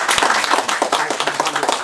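Brief burst of audience clapping at a Korean political lecture, dense and fairly loud across the short span, with some speech-like sound mixed in.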